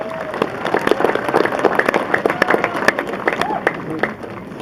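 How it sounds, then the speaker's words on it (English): A crowd at a Rim of the World High School graduation ceremony claps steadily, a dense wash of applause with scattered cheers mixed in. "Give them a round of applause"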